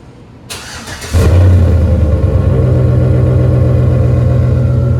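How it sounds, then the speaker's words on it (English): A car engine with an exhaust cutout cranks and fires up, then settles into a loud, deep, steady idle rumble through the muffler, close by. "let's get it on the ground and hear how this muffler sounds"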